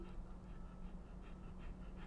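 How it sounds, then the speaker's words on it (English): A female dog resting indoors in her bed pants steadily in quick, soft, rhythmic breaths, close by under a low constant hum. "I don't know why she's panting. It's not even hot in here."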